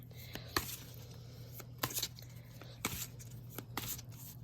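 A tarot card deck is shuffled close by, with soft riffling and quick snaps in scattered bursts, fairly quiet against a low hum.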